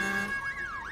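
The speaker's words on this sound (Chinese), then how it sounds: "那是警笛声吗？" A cartoon police car siren wails in rising and falling sweeps, loud and close, after a brief steady horn-like tone at the start, with no talking.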